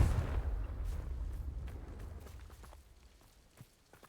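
The Confringo blasting spell explodes in the video game Hogwarts Legacy with a heavy, low rumbling boom that slowly decays, followed by faint scattered thuds and footsteps.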